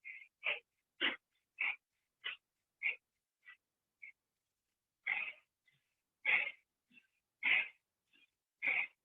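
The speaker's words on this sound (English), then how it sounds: "Now we're going to speed it up, breathing faster through the nose, breath of fire." Rapid breath-of-fire pranayama breathing through the nose during a yoga class, a series of sharp, close nasal exhalations in quick bursts with brief pauses between groups, no talking.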